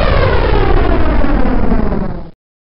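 An animated rocket ship's engine roaring, a loud, dense low rumble with broad hiss sustained for about two seconds before cutting off abruptly into silence.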